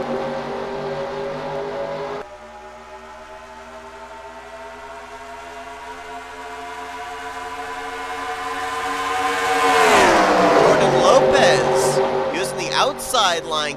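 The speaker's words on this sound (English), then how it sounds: "we are getting ready to go green flag racing here in the 15th annual Snickers Cup Series Daytona 500" A pack of race cars at the green flag start of the Daytona 500 holds a steady droning engine tone, then swells into a rising, louder roar as they accelerate, with a voice talking over it.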